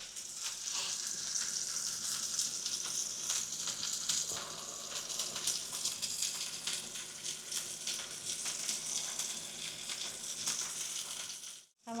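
Bacon jam with brown sugar sizzles and crackles in a pan, a continuous bright frying hiss held close and steady for about eleven seconds before cutting off abruptly.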